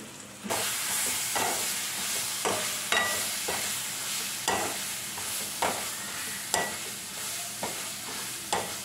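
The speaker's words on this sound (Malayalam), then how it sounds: "ഈ പച്ചമുളകിൻ്റെയും ഇഞ്ചിയുടെയും വെളുത്തുള്ളിയുടെ എല്ലാത്തിൻ്റെയും പച്ചമണം മാറുന്ന വരെ നമ്മളെ വഴറ്റിക്കൊണ്ടിരിക്കും" Green chilli, ginger and garlic paste sautéing in a pan for a vindaloo, a steady sizzle broken by regular scraping stirs about once a second, close and clear with no talking.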